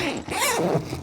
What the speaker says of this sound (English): you can see that's quite a solid metal zipper handle there. Listen to that.